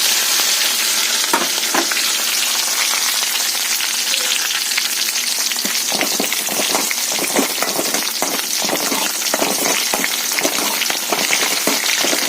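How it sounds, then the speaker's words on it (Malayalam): Shallots, curry leaves and green chilies frying loudly in hot oil after mustard seeds have popped, with a dense continuous sizzle and frequent crackles and spits, close up and without speech. "കടുക് പൊട്ടിക്കഴിഞ്ഞ് നമുക്ക് ചുമന്നുള്ളി ചേർത്ത് കൊടുക്കാം."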